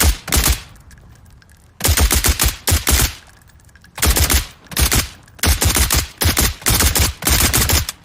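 A Steyr AUG bullpup assault rifle in 5.56 fires in the game SCP 5k, several loud, close full-auto bursts separated by short pauses, crisp and rapid with no talking.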